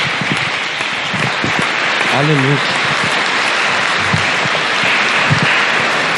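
Church congregation applauding during an evangelical Pentecostal worship service, a dense steady wash of clapping filling the room throughout, with a voice speaking briefly over it.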